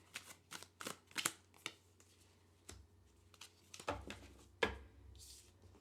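Tarot and oracle cards are shuffled and handled up close, with a run of sharp riffling snaps and papery flicks in uneven bursts, a few louder slaps near the end, and no talking.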